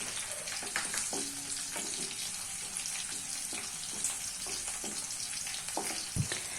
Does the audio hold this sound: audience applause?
no